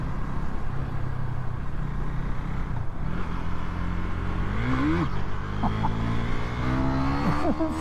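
Loud engine of a KTM Duke 390 motorcycle, steady and close, then revving hard with rising pitch sweeps as the rider pulls a wheelie, on a road ride near a pub.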